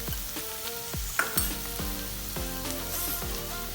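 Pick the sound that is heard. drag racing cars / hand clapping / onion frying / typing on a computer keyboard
onion frying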